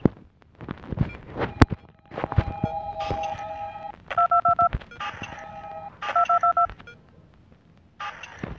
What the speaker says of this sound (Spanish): La cosa es que no sé cómo callar los teléfonos.